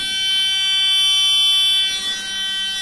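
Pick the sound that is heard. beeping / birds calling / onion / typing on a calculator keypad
beeping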